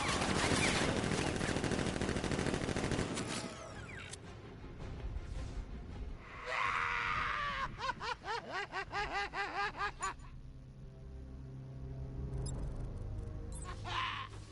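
Guards opening fire in the Batman: Arkham Knight video game, loud noisy bursts followed by rapid rhythmic volleys of automatic gunfire, some sharp isolated shots and a closing burst, alongside game sound effects.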